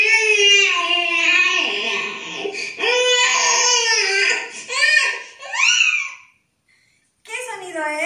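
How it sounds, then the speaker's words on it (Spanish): An infant cries in loud, wavering wails with rising and falling pitch, broken by short gasps, a brief silence near the end, then crying resumes. "¡Es el llanto de un bebé!"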